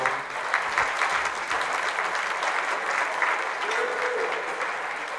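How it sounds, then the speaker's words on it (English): A crowd at a flower market night opening in Grand Prairie, Texas gives a steady round of applause, the clapping dense and even throughout with faint voices underneath. "Please give them a round of applause."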